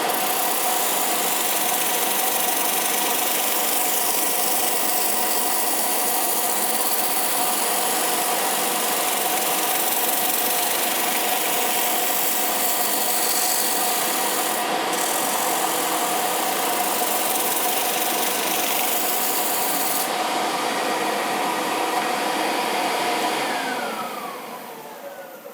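A Record Power wood lathe runs at speed while a bowl bottom is sanded, giving a loud, steady whirring hum with a faint scratchy rasp that fades slightly at the very end.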